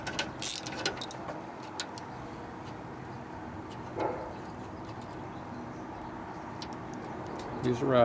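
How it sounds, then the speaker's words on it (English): Ratchet clicking as it turns a tap on a 1952 Harley-Davidson panhead, quiet steady mechanical ticking with a few louder clanks, close by in a calm workshop. "Use the ratchet."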